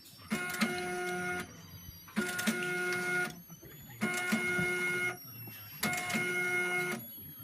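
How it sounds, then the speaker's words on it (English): A Zebra ZE500 label printer runs out labels in four separate mechanical bursts, each a steady whirring buzz lasting about a second and a half, with short pauses between, close and moderately quiet. "so it runs out some of the labels here on the right side"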